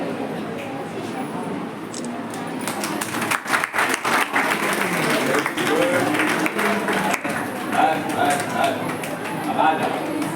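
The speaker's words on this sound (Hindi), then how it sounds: "कृपया जोरदार तालियां दें मानसी दीदी के लिए" Audience at a college farewell function for final-year BA students clapping loudly and continuously, with cheering chatter and voices mixed in as the applause swells.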